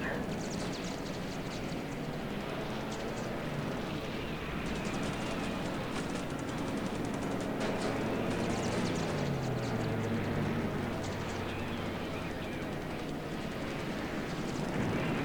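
Aircraft engines drone over a dense wash of noise in the War in the Pacific game's air combat, with P-40 fighters engaged, giving a steady, moderately loud roar with no pauses.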